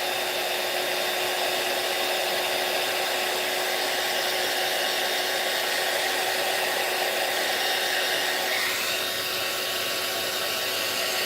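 A heat tool blows hot air to dry a wet embossed card, giving a loud, steady whirring hiss with a constant whine, near and continuous, with no talk over it.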